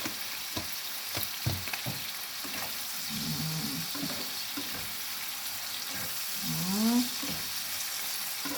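Garlic and onion sautéing in a pan, a steady close sizzle with a few scraping stir strokes near the start and faint tonal squeaks later, under no talking.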